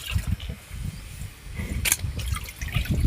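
A buffalo drinks water from a trough or tank on a farm, making close splashing, slurping and gulping sounds in uneven bursts over a low background.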